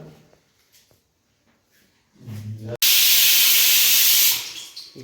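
A pressure cooker whistle releases steam in a loud, sustained hiss lasting about a second and a half, following quieter kitchen clatter, while vegetables such as cabbage, potato and brinjal are being cooked at a farmhouse.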